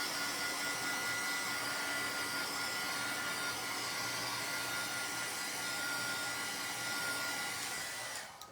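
A hair dryer blows steadily at close range to dry a colored greeting card with shimmer paint, a loud constant whoosh that holds for several seconds before switching off at the end.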